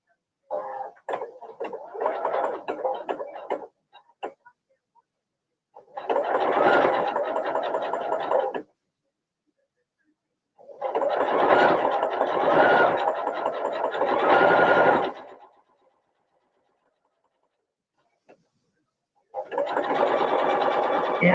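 Sewing machine stitching clear vinyl for a child's tote bag, running in several bursts of steady rapid whirring, each lasting a few seconds, with quiet pauses between and faint handling sounds at the start.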